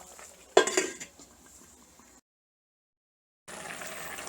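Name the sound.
pot covered with a lid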